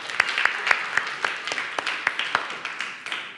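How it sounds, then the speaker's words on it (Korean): Congregation applause in a church service, a crowd of hands clapping steadily and fairly close, with a few sharper individual claps standing out across about three seconds before thinning toward the end. "자, 박수."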